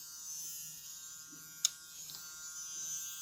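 An all-in-one digital permanent makeup tattoo machine, its needle pulled well out, runs with a faint steady electric buzz, close and quiet, with a single sharp click partway through.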